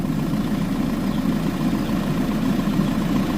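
A car engine idles steadily, a constant low rumbling hum close by with no change in pace. The car is blowing black and white smoke from the exhaust at idle, and the exhaust is running very hot.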